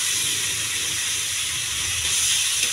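Chicken pieces frying in oil in a pan for a chicken curry, a steady loud sizzling hiss that runs unbroken throughout, with no one talking.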